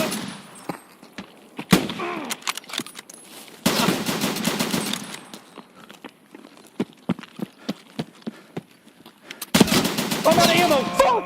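Bursts of video game gunfire, machine-gun volleys and single shots, break out in several clusters across a tense multiplayer shootout, loud and close, with scattered footsteps between.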